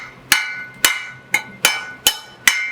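Super soft brick being cut with a steel trowel during bricklaying: six sharp, bright chopping strikes at a steady rhythm, each with a short ringing tail, close and loud with no talk.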